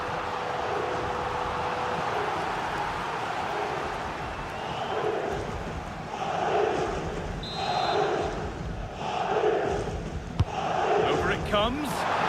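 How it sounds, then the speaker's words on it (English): A stadium crowd in an FC 26 football match between Real Madrid and Manchester City swells into rhythmic chanting and surging cheers ahead of a corner kick, with commentary voiced over the din. "just listen to the crowd"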